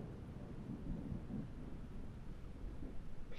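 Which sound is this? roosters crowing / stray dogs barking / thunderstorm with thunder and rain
thunderstorm with thunder and rain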